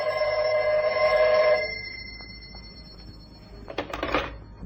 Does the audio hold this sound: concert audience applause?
no